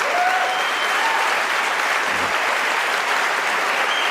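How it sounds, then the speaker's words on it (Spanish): Loud, dense applause from a church congregation during a Christian sermon, a steady unbroken roar of many hands clapping together from start to finish. "si quieres aplaudir, no estás seco como un higo,"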